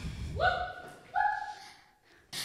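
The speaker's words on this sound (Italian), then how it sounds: "Seconda prova, salta e abbaia." A dog performing a jump-and-bark trick in a school competition lets out two drawn-out yelping barks, close and clear, followed by a brief sharp noise at the end.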